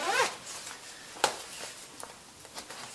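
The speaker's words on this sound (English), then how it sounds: "Simple to use zip, easy." A zip on a Rukka Nivala Gore-Tex motorcycle jacket is pulled open with a quick close rasp, followed by a few faint rustles and small handling clicks.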